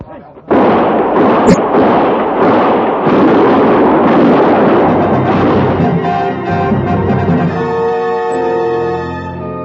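Gunfire in an old-time radio frontier drama, a burst of loud, echoing shots and booms near the start followed by a long, rumbling sustained battle texture under music.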